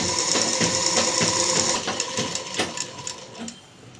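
A sewing machine stitches the lining of a sleeve in a fast, steady mechanical chatter up close. It slows and becomes more uneven toward the end, with no speech over it.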